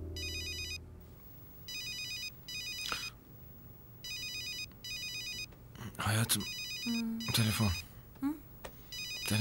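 A telephone rings in a Turkish television drama, sounding in repeated electronic trilling bursts with short gaps, while people talk over the later rings.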